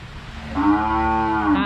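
A cow from a herd on a Thai cattle farm lets out a single loud, drawn-out moo lasting over a second, close by, after a short stretch of quieter background noise.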